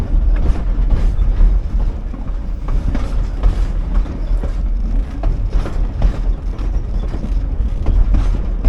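Riding aboard a Virginia & Truckee Railroad train in the Nevada mountains: a loud continuous rumble of the cars rolling over the rails with steady rattling and faint rhythmic clacking, close and unbroken.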